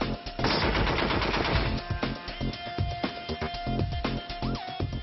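Rapid naval gunfire from the 127 mm gun of INS Mormugao, an Indian Navy stealth guided-missile destroyer, a dense run of loud repeated shots with a heavy rumbling tail and sharp impulses continuing throughout.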